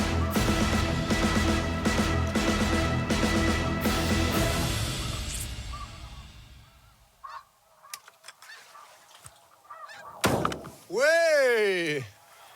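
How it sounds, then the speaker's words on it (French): Snow geese honk in flight during a spring hunt in Quebec. Steady rushing noise fades into quiet with a few thumps, then a couple of loud, near honks ring out at the end. "c'est des oies qui s'en viennent une par une, les ailes bien ouvertes"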